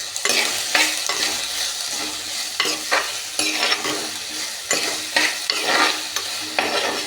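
Vegetables for koottu curry sautéing in a pan, with a steady sizzle of frying and repeated scraping stirs of a spoon against the pan, loud and close, no talking.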